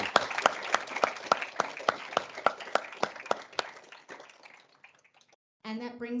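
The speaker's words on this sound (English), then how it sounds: "Please give our illustrious panel a big round of applause." Small audience applauding a panel at a meeting, a sparse patter of individual claps that thins out and trails off into near silence before a voice begins speaking.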